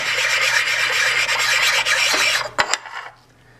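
A marker-coated metal surface on a mill vise is rubbed in a close, steady rasping scrub that ends with a couple of sharp knocks and then near quiet.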